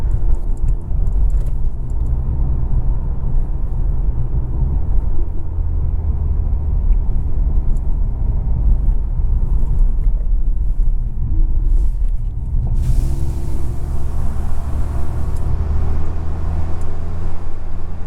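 A steady, deep engine drone from a 2023 Mercedes C43 AMG sedan's 4-cylinder cruising along, with continuous low rumble and road noise, no voices.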